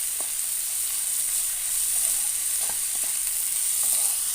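Dried anchovies frying in a pan with softened onion and tomato, a steady bright sizzle with occasional scraping stir strokes, close and continuous without talk.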